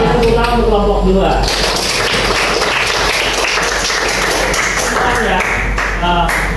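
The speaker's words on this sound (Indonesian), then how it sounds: "Tepuk tangan untuk kelompok 2." Students in a classroom clap for group 2, a brisk burst of applause between stretches of a teacher's voice at the start and end.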